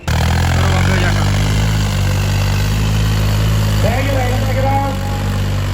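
Tractor engine running at a tractor fair in Punjab: a loud, close, steady low rumble with a rhythmic beat that continues throughout, with people talking over it.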